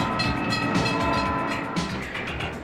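An auto train rumbles past up close and loud, its wheels clattering steadily over the rails with a continuous heavy roar for a few seconds and no voices.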